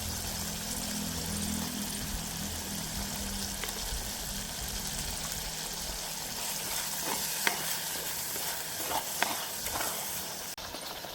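Tomatoes frying in a pan while being stirred, a steady loud sizzle with scraping stir strokes and a few sharper clicks, no voices.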